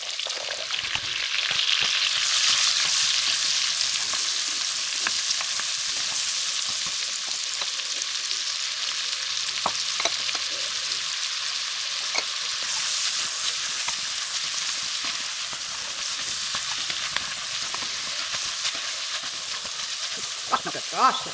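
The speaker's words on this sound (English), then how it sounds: "Now, we're going to saute our veggies." Vegetables sautéing in a hot pan for beef bourguignon give a continuous loud sizzle and hiss, with intermittent scraping and stirring clicks, the frying surging brighter at moments along the way.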